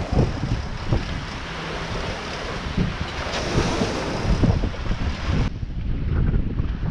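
Waves wash onto a beach under strong gusting wind heard from a sailboat on a windy passage off the Greek coast between Marathopoli and Katakolon. A dense, loud rush of surf and wind buffets the microphone, easing slightly near the end.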